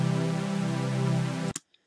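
A simple synth pad chord from the Sylenth synthesizer holds steady and full for about a second and a half, then cuts off abruptly, leaving a brief faint tick.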